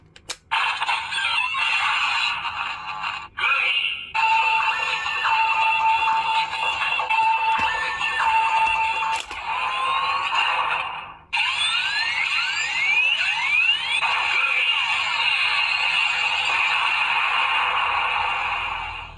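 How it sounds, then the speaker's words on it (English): A Kamen Rider Gavv DX Valenbuster electronic toy sorts Gochizos with loud, continuous electronic tones and beeping melodies, a brief break near the start and another partway through, and sweeping effect sounds toward the end. "So what you heard was the Valenbuster sorting the Gochizos"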